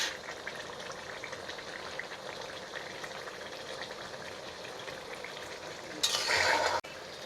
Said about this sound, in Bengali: মাছগুলো এভাবে আপনারা এপিট ওপিট করে